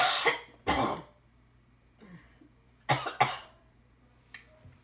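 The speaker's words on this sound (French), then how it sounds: "Désolée pour la toux." Several harsh coughs from a woman, two close together at the start and two more later, with a throat-clearing sound in between, loud and near against a quiet room.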